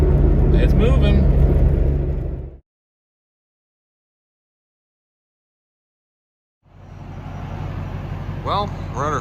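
A 1986 Toyota Tercel 4WD, revived after sitting 13 years, drives on a road test with a steady low engine and road rumble, cut by a long silent gap before the driving noise resumes under voices.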